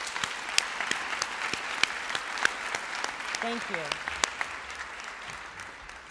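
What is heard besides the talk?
luncheon audience applauding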